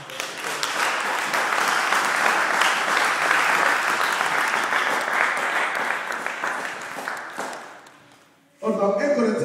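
A church congregation breaks into sustained applause and cheering, a loud dense wash of clapping that holds for several seconds, then fades and cuts off before a voice resumes.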